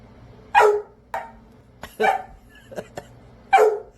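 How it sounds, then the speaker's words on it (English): A large dog, once silent after dog fights, barks: three loud, close barks spaced about a second and a half apart, with softer short yips and whimpers between them and no talking. "Scooby, the dog who found his bark again"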